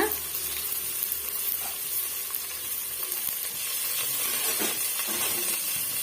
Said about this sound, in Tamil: கட் பண்ணி வச்சிருக்க வெங்காயம் வெள்ளை பூண்டு வந்து சேர்த்து விட்டுக்கலாம்